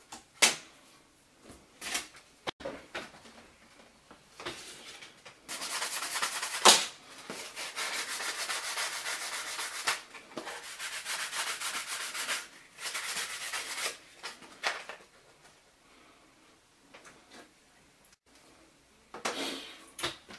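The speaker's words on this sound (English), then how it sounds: "Just sand it down here a little bit on the edges" Sanding along the edges of an end panel, a rough abrasive rubbing that comes in several sustained bursts of varying length, with quieter pauses between them and no talking.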